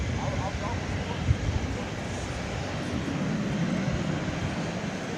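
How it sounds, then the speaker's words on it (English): An MD-11 freighter backs out on the airport apron at night, a broad steady jet engine rumble and whine at middle distance, with a voice talking over it. "Good old MD-11 backing out."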